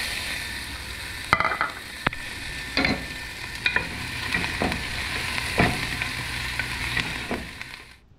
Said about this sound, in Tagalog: nilagay ko na yung garlic. Igisa ko lang.